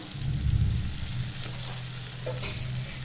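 Boiled rajma sizzles in a pan with a paste of ginger, cumin, pepper and coriander, a low steady frying hiss with soft stirring, close and without speech.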